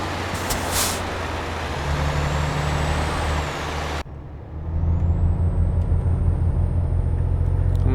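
A heavy Volvo truck with a 750 HP engine, hauling 73 tons in Euro Truck Simulator 2, vents a steady broadband air-brake hiss over continuous low engine rumble, the hiss dropping briefly midway before surging back loud and sustained.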